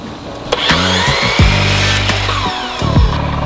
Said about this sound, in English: set up a stop on my miter saw, and started making my cut